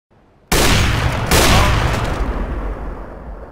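Rapid pre-firing gunfire in a tactical shooter game erupts suddenly after a brief quiet, a loud sustained burst of shots with a second surge midway, then trailing off into a reverberant tail.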